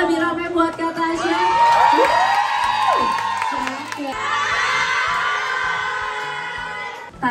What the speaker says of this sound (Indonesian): Tepuk tangan yang lebih ramai buat Kak Tasya.